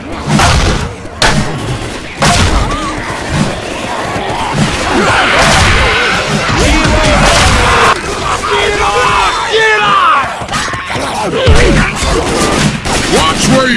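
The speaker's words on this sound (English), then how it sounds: "Watch where you're shooting!" Dense, rapid gunfire rattles almost nonstop in the zombie co-op shooter Left 4 Dead 2, with heavy booming shots mixed in and players' voices shouting over the din.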